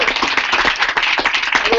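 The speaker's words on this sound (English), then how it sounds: "Give him a round of applause, please." A room of office colleagues applauds Manny for his first sales, a brief burst of close, crisp clapping that runs steadily throughout, with voices mixed in.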